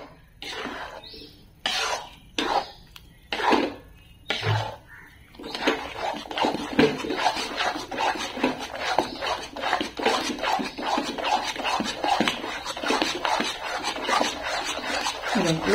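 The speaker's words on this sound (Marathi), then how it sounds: "अगदी मंद गॅसवर व्यवस्थित बेसन भाजून घ्यायचंय" Gram flour being stirred and roasted in ghee in a pan over a very low flame for besan laddoo, giving a steady close rasping scrape, with a few separate scrapes at the start before continuous stirring.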